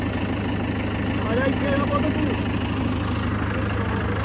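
A tractor engine idling in a field being readied for flooding, a steady low rumble running throughout while people talk nearby.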